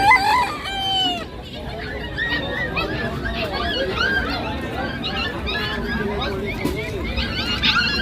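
Several chickens cluck and crow in overlapping calls nearby, with people chattering throughout.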